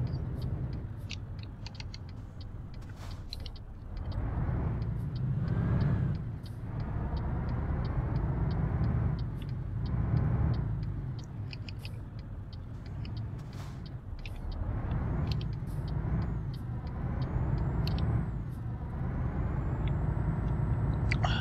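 Engine-brake rumble from a heavy truck slowing in Euro Truck Simulator 2 on Icelandic roads, a loud sustained low drone that swells and fades in waves, with occasional hissing and creaking bursts over the top.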